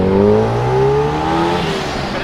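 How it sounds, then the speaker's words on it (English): At a busy street car show, a Ford ST's engine revs loudly and close by, its pitch rising and wavering for about two seconds before easing off. "Give it a rev."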